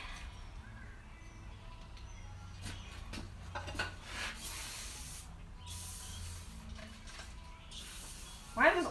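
Carburetor cleaner sprayed from an aerosol can through a small hose, quiet intermittent hissing bursts, close and faint, ending with a brief louder sound.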